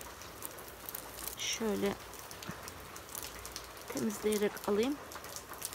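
Rain patters steadily outdoors while someone gathers wild milky greens, a soft continuous hiss with a person speaking over it in short bursts.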